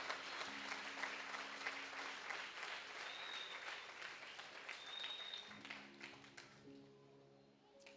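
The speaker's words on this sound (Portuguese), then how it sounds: "Você podia pelo menos aplaudir ao Senhor" A church congregation applauds, with sustained dense clapping from a crowd at moderate distance that tapers off toward the end while a held organ or keyboard note sounds beneath.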